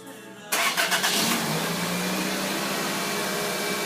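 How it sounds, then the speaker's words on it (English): A 2002 Toyota Celica fitted with a remote start alarm cranks in a short burst of stuttering pulses after a faint hum, then settles into a steady, even idle. "The remote whistles and the engine cranks."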